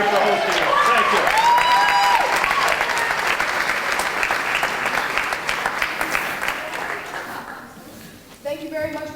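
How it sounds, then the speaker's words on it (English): Audience applause at an arts hub grand opening in a Toronto Public Library branch: dense, sustained clapping from a large crowd, loud and steady, thinning out near the end. "Round of applause."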